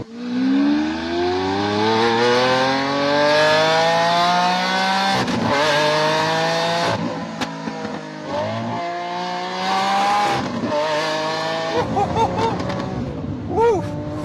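A Lamborghini Aventador S with its 740 hp 6.5-litre V12 screams up toward 8,500 rpm in a series of loud, rising revs. Each climb ends in a sharp shift or drop-off, with brief dips between pulls.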